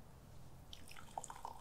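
Brewed tea, a Formosa Dong Ding oolong, being poured off, heard as a faint trickle followed by a few small drips and splashes near the end.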